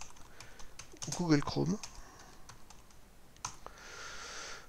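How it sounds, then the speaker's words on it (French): Close keyboard typing, a quick burst of key taps while someone speaks French briefly, followed by a few scattered clicks and a faint hum. "je tape ici"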